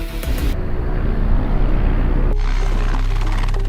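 A loud, steady rotor roar of a Bangladesh Air Force attack helicopter in flight, droning continuously with no pauses, close and powerful throughout.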